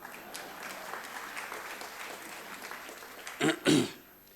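Faint, steady applause from a parliamentary audience at South Africa's 2017 budget speech by Finance Minister Pravin Gordhan, rolling on for several seconds before a couple of louder coughs or throat-clears near the end.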